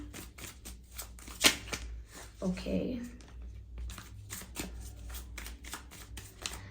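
Tarot cards riffled and shuffled in quick crisp bursts, with a sharp flick as one card is drawn, sitting under a continuous low background hum while someone talks throughout.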